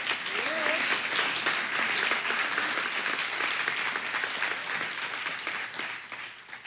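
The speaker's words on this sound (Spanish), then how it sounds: "Dale ese aplauso a Él." A church congregation claps steadily throughout, a dense, sustained wash of applause from many hands that stays loud and even before easing slightly at the end; a voice briefly sounds over it near the start.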